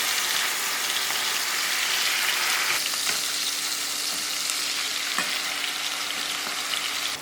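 Fish pieces for a Sri Lankan fish curry frying in hot oil in a pan, a dense continuous sizzle with faint crackles and a few soft utensil taps, close and steady.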